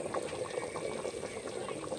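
Mutton curry (kuzhambu) bubbling in a pot, a steady soft simmer with faint, continuous bubbling and popping at close range.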